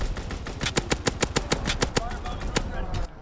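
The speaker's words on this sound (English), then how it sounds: "Fighter pilot inbound. Strafing the target." A fighter plane's strafing run in Call of Duty WW2 fires a rapid, evenly spaced string of loud heavy gunshots that fades out after about three seconds, with game voice chatter and other battle noise underneath.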